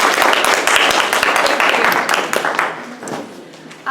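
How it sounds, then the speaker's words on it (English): Audience at an evening health talk breaks into loud, dense applause from start to near the end, fading slightly before a brief voice cuts in. "So a big round of applause for all of you."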